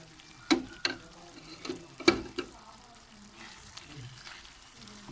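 Keema and vegetables, with coriander, kasuri methi and garam masala just added, are stirred in a pan over low frying: a few sharp spoon knocks and scrapes stand out above a soft, steady sizzle, with no talking.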